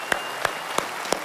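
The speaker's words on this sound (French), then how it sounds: "je voulais vraiment que vous l'applaudissiez très, très, très, très fort" Audience at a mayor's New Year's wishes ceremony with the town council in a French town hall, applauding: four sharp, evenly spaced claps stand out close by over a soft wash of clapping.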